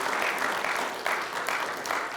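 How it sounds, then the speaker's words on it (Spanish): A church congregation applauds steadily for a couple of seconds, many hands clapping in a dense, even wash at moderate loudness. "Dale el aplauso a Jesús."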